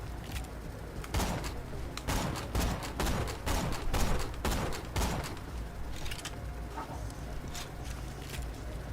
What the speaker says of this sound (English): Because that sniper used to be slow as fuck. Now it's like actual semi-fire.